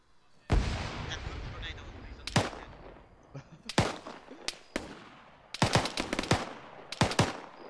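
Arma 3 combat with gunfire and grenade explosions: sharp, loud blasts and bursts of shots come in irregular clusters, each followed by a rumbling decay, with a voice talking faintly underneath.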